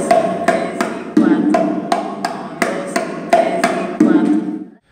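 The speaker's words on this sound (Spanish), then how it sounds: "Tatiana Marcela, cómo hacemos el golpe del martillo en el bongó, marcando cuatro, ¿ven?" Hammer strokes on bongo drums ring out in a steady repeating pattern of about eleven sharp, loud hits, each with a short decay, played alone and stopping cleanly at the end.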